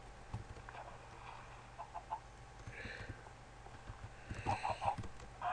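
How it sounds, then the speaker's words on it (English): Chickens clucking in Minecraft, faint scattered clucks heard over a low game hum along with soft clip-clop-like footsteps, growing slightly louder near the end. "Oops, gotta stop for the chickens."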